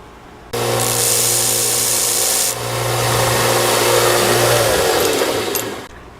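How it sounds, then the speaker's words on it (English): An electric grinder grinding the tip of a Phillips screwdriver, a loud continuous whirring hum with a harsh, rasping grind that starts abruptly, dips briefly midway, then carries on before cutting off. "Now you can use your electric grinder"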